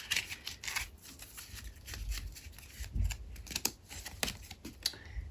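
Tarot cards are handled and shuffled in a run of quick papery riffles and flicks, close and soft, with irregular bursts of rustling and no talk.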